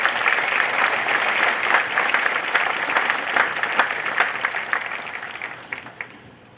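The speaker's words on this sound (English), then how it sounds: "Another round of applause for the class of 2022." A graduation ceremony audience applauds the graduating class, steady dense clapping from a large crowd that carries on for several seconds and gradually thins and fades toward the end.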